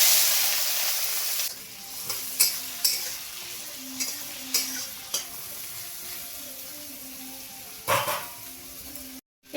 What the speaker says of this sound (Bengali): আর এই যে বেরেস্তার জন্য পেঁয়াজও ভেজে নিচ্ছি